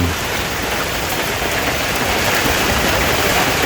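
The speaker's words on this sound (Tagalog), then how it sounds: "inabutan pa nga tayo ng ulan" Steady rain pours around a small open hut beside a fish pond, a dense, even hiss of drops on the roof and ground that stays loud and constant the whole time with no voices.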